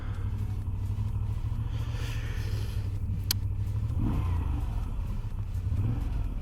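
An Alfa Romeo Giulia's exhaust rumbles low and steady throughout, swelling slightly as the engine revs, with a continuous throaty drone.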